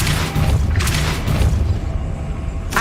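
Hogwarts Legacy's Depulso spell fires off in a few loud, deep booms, each with a bright, whooshing burst layered on top, ending in a final sharp flare.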